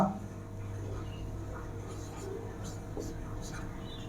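A teacher writes an example on a classroom board during a Hindi grammar lesson. Soft, scratchy strokes sound close by over a low, steady hum, with a faint voice murmuring underneath.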